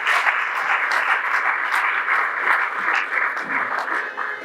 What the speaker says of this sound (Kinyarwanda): Bikomera amashyi menshi cyane